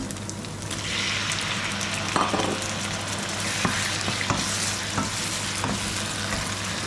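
Tomatoes added to fried onions sizzle steadily in a hot pan, with occasional scraping stirs cutting through the constant frying hiss.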